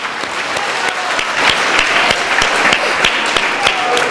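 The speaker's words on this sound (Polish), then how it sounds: "Zasłużone brawa, kochani" Applause from an audience after a kindergarten children's performance at an integration event, a dense steady clapping with sharp individual claps standing out, loud and continuous throughout.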